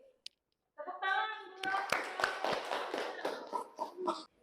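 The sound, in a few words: class clapping hands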